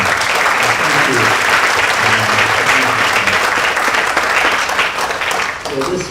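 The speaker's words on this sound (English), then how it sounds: "I think we really owe them a huge round of applause for what they've done to bring this wonderful exhibition" A big round of applause from a symposium audience, loud, dense and sustained, tapering slightly at the very end.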